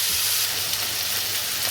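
Onions sautéing on low heat in a pan for a country chicken curry, a steady, even sizzle that carries on without a break and stays fairly close.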